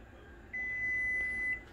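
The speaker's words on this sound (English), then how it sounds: "Okay, guys, so our timer's done." Kitchen timer signals the end of an hour of dry canning instant potatoes with a single steady electronic beep lasting about one second, clear and moderately loud over quiet room tone.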